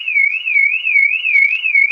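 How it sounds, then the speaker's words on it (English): An electronic alarm sounds close and loud, a single warbling tone that rises and falls in a steady rapid cycle, about five sweeps across the short span with nothing else behind it. "I don't know if you heard that, an alarm went off."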